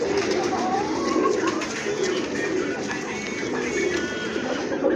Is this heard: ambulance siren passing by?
no